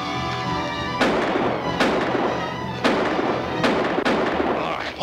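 Four loud, sharp gunshots ring out in a classic Western film, spaced roughly a second apart, each followed by a booming echoing tail.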